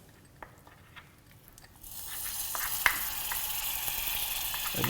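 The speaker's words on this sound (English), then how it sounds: "And you add the butter and it begins to sizzle." Butter meets a hot pan during caramel making and breaks into a steady, close sizzle partway through, after a quieter stretch of faint clicks and stirring sounds.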